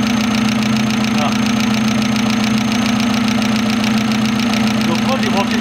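A Citroën Saxo engine running just after starting, a loud, steady idle with a rhythmic knocking pulse and a constant hum, close up.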